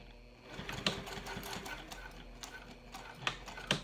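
A sewing machine topstitches an eighth-inch seam on a crossbody bag, a faint, close ticking whir with a few sharp clicks, running alone without talk.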